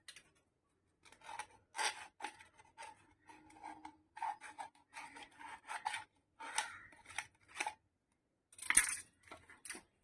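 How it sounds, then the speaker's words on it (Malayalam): The top of a handmade broom being cut off: close, scattered bursts of rasping, scraping cuts through dry bristle fibres, separated by short silences, with no voices. "മേൽഭാഗം ഇതുപോലെ കട്ട് ചെയ്ത് കളയും കറക്റ്റായി കട്ട് ചെയ്ത് കളഞ്ഞ്"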